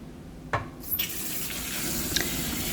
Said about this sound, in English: you're going to wash it until the water starts running clear